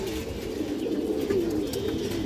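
Domestic pigeon cooing softly and steadily, one bird close by with a continuous low murmuring coo, no talk over it.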